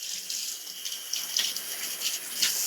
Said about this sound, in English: Let's get these rinsed off.